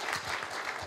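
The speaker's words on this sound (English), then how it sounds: "give her a big round of applause" Applause for Deb from the audience at an Ontario Liberal Party breakfast fundraiser in Mississauga, a dense, steady clatter of clapping hands filling the room without pause.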